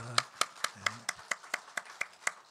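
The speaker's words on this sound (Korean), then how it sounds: "우리 환영의 박수 하시겠습니다." Rhythmic clapping from a congregation during a Korean church Sunday service, about a dozen sharp, evenly spaced claps in a steady beat, with a brief voice heard at the start.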